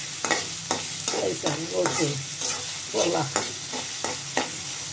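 Meat fries in hot oil while being stirred, a constant sizzle broken by repeated scraping strokes of a utensil against the pan, close and loud.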